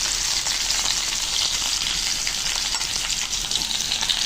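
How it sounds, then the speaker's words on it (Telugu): Okra pieces fry in hot oil in a kadai, giving a steady, dense sizzle that holds evenly from start to finish with no voices. "ఆయిల్ హీట్ అయినాక బెండకాయ ముక్కలు కొంచెం కలర్ మారే వరకు ఇవన్నీలో వేయించుకోవాలి"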